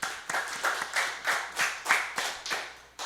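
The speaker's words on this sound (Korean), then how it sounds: "우리 수정 집사님을 위해서 격려의 박수." A church congregation at a Friday prayer service claps in encouragement, a steady rhythmic beat of about ten sharp, evenly spaced group claps with no talking over it.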